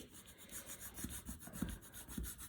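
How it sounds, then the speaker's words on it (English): Continuous soft scraping of a small burnishing tool being rubbed across a paper card, with a few light taps, quiet and close. "now I'm going to use my little burnishing tool"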